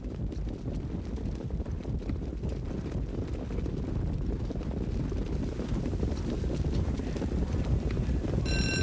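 Harness racing horses leave the starting gate in a rushing blur of hooves and wheels, heard as a dense, continuous rumble with wind buffeting the microphone throughout.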